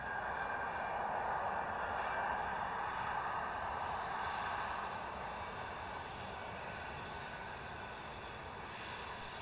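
ATR turboprop airliner lining up on the runway at Edinburgh Airport, a faint, distant, steady engine drone with a broad airy rumble that fades slightly over time.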